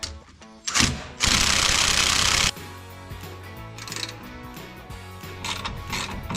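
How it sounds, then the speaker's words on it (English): A hand ratchet loosening a bolt and nut on a vehicle steering damper, a loud burst of rapid clicking followed by softer intermittent ratcheting strokes up close, no voices. "We're going to go ahead and remove this bolt and remove this nut."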